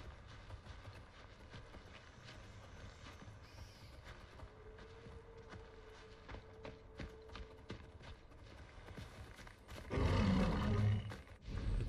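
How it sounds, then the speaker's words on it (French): Animal cries in the prehistoric video game Far Cry Primal: a faint, drawn-out howl-like tone rises over a low ambient wilderness bed, then a loud, close roaring burst erupts near the end. "Vous les entendez, on entend les hurlements."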